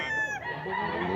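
Chickens and roosters crow close by, a loud drawn-out call tapering off within a second as other fowl cluck underneath.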